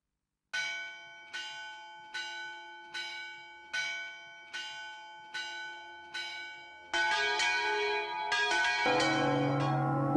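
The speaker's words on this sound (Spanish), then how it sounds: "Un día, la campana de la iglesia repicó a muerto." A church bell tolling for a death, seven slow evenly spaced strikes each ringing out and decaying, followed by denser, louder overlapping bell clangor near the end.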